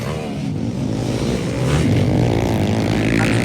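Underbone motorcycles race in Mindanao, their small high-revving engines buzzing loudly and steadily up close, pitch climbing as they accelerate past.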